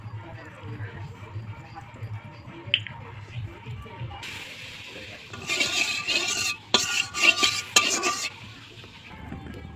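Mustard oil is poured into a wok set up for frying chicken: a low hum at first, then a loud hissing splash in bursts over the last few seconds, broken by brief pauses.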